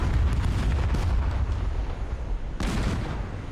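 A tank blows up in the Call to Arms battle, heavy low-end blasts and rumbling detonations, with a sharper burst near the end amid continuous combat noise.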